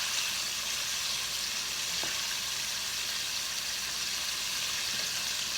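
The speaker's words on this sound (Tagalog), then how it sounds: "habang piniprito natin itong first batch" Prawns frying in oil in a pan: a steady, dense, close sizzle that holds evenly throughout with no pauses and no voices.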